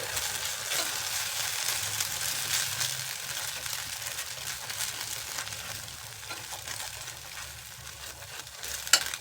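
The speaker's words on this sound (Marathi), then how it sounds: "आता सारखं हलवायचं म्हणजे चिकटल्या जाणार नाही खाली" Chilli paneer being stirred in a pan over frying heat: continuous close sizzling with scraping stirs throughout, and a sharp clink of the utensil near the end.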